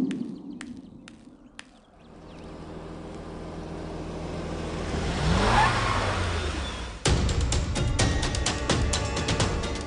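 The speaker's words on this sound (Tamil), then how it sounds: "வண்டி சத்தம் கேக்குது, ஆனா வண்டி நகர்ந்த மாதிரி தெரியலையே" A vehicle engine runs and revs, a low drone swelling louder and then holding steady, with a few sharp clicks near the start and more rattling ticks later, and no talk.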